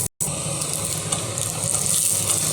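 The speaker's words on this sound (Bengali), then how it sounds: "তাহলে দুই পিঠ সুন্দরভাবে ভাজা হয়ে যাবে।" Okra (bhindi) sizzles in a pan as it is stirred and turned, with a bright, steady frying hiss, light scraping textures and a momentary cut-out right at the start.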